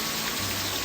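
Rain falls steadily on a surface on a rainy afternoon, a dense, even hiss of drops, fairly close and uninterrupted.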